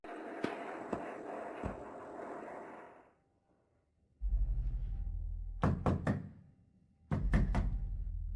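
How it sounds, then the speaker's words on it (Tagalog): Someone knocks on a door at midnight, two quick sets of three sharp, loud raps that follow a stretch of low rumbling noise. "Kumakatok ka ng? Hating gabi."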